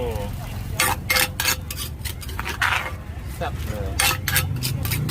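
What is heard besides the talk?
pestle pounding spicy seafood salad in a mortar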